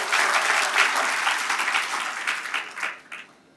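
Congregational applause at an Indonesian church service celebrating the Ascension, a dense steady burst of many hands clapping that thins and fades toward the end.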